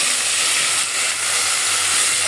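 Spices hit a hot pan for a bottle gourd curry and give a steady, bright, hissing sizzle that stays loud and even throughout, with no voices.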